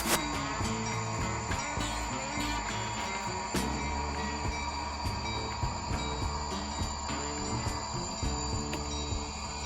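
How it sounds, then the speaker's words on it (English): A WC L161 local freight train backs up to pick up boxcars, giving a steady loud rumble with irregular metallic clanks and rattles from the cars and couplers throughout. "As our train backs up one final time to pick up the rest of the boxcars"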